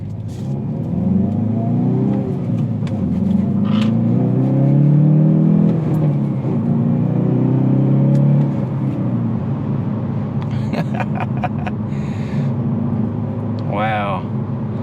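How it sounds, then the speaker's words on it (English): A 2019 Hyundai Veloster N pulls away from a stop, its exhaust droning and rising in pitch under steady interior road rumble, with a person talking over it. "just this takeoff, just so you can hear the exhaust a little bit better"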